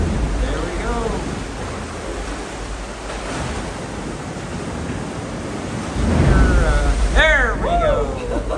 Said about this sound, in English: you see a tide come in and it'll splash big and make the noise.